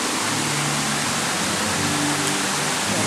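Waterfall at the Polynesian Cultural Center, a steady broadband rush of falling water that holds constant and fairly loud throughout, with a faint low hum underneath and no talking.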